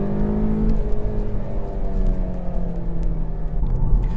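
A 2017 Volkswagen GTI engine with a 6-speed DSG dual-clutch gearbox pulls hard and steadily, its pitch sweeping upward as it accelerates, loud and close with no talking.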